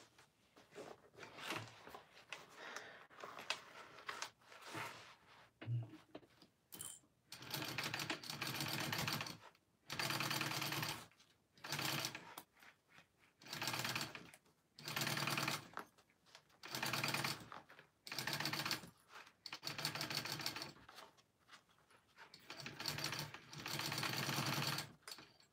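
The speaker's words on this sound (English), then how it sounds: "stitch up the bottom there" Sewing machine stitching fabric, a rapid mechanical chatter that comes in repeated bursts of a second or two separated by short pauses, close and fairly quiet, with no talk.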